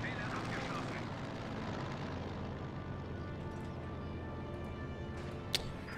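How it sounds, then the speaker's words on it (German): A reconnaissance airplane drones overhead in the Company of Heroes 2 video game, a dense steady engine roar filling the whole stretch with a sharp click near the end. "Nein, das ist ein Flugzeug, das klärt, glaube ich, auf."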